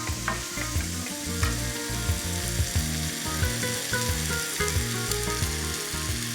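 Diced onions with fresh bay leaves sweat in a pan, a steady close sizzle and crackle running throughout with light stirring scrapes.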